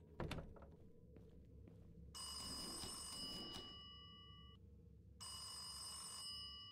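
A phone rings in the Indian horror video game Kamla, a loud electronic trilling ring in two bursts after a sharp thunk and some quiet handling sounds, with no voices.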